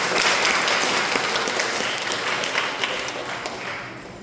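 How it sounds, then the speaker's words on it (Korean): A church congregation at a Sunday worship service breaks into applause, a dense roomful of clapping hands that starts strong and gradually tapers off, fairly close and loud with no talking over it. "박수 한번 쳐주세요."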